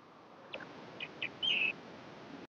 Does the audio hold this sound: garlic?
no